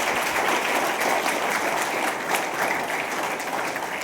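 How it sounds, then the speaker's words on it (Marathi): Loud, sustained applause from an audience at a student-parent gathering at Lokmangal College, Wadala, continuous clapping filling the whole stretch without a break. "या दोन्ही महिलांसाठी एकदा जोरदार टाळ्या."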